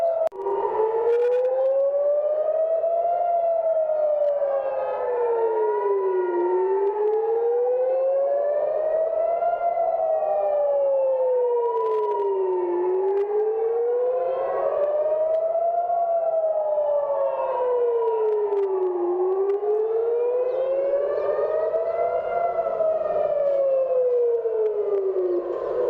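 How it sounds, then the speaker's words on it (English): An air raid siren in the Jerusalem city centre, heard from inside a bomb shelter, wails loudly and continuously, rising and falling in slow regular sweeps for the whole stretch. "this is the siren right now in the city center of Jerusalem"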